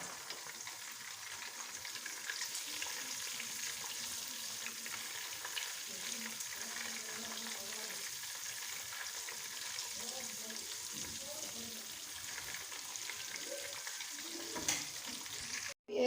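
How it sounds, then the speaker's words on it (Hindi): Chana dal fries in a pan with a soft, steady sizzle, heard close but quietly, along with occasional stirring scrapes and faint kitchen clatter throughout. "चने की दाल को थोड़ा सा भूनूंगी"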